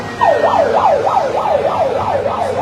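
A loud siren wails in rapid rising-and-falling sweeps, steady and close, over a dull background murmur from a crowd at Hazrat Shahjalal International Airport, Bangladesh.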